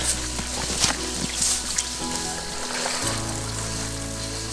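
Argentine shrimp frying in a pan and stirred around: a steady, close sizzle with faint crackles and pops, plus a brief shift as the utensil moves through the pan.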